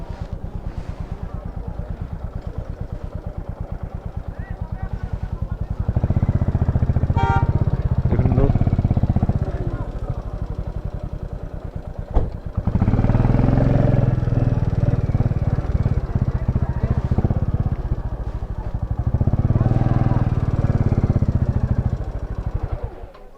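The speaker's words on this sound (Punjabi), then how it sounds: "ਆਪਾਂ ਹੁਣ ਬਾਈਕ ਤੇ ਲਗਾਈਏ" A motorcycle engine runs steadily at the start of a mountain trek route, its throbbing idle swelling louder in several long stretches, with voices talking over parts of it.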